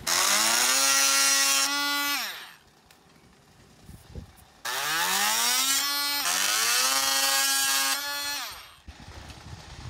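A power tool cuts into the protective plastic on a carved wooden nameboard during restoration, a loud whining run with descending pitch sweeps, a brief quieter pause, then a second sustained cutting burst that winds down.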